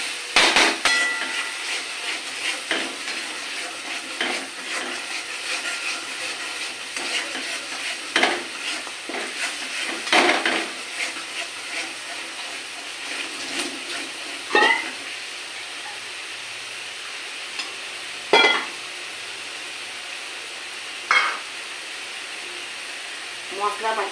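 Chana paneer masala is sautéed in a pan with a continuous sizzle and repeated sharp scraping and knocking strokes from a spoon against the pan, heard close for a long stretch.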